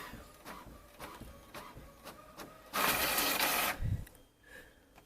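A label printer runs in a cluttered home business area, a faint series of short mechanical clicks and whirs followed by a louder burst of feeding noise and a low thump, with no talking.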